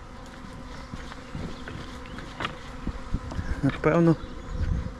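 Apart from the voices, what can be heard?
swarm of bees buzzing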